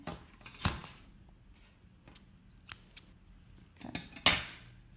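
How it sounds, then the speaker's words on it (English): Scissors snip through yarn in a handful of sharp, separate cuts spread unevenly, close and fairly quiet, with small metallic clicks of the blades between cuts and no talking. "We want to just cut this yarn."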